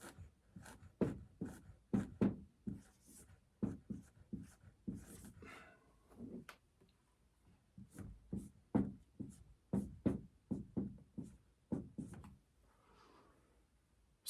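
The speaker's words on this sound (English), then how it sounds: "I'm going to write this again" Handwriting on paper, a close series of rhythmic pen strokes and scratches in quick bursts, some short pauses, quiet and without speech.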